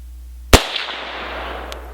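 A single sharp gunshot from an M1 Carbine fired at a target, a loud close crack followed by a short decaying echo in an otherwise quiet setting.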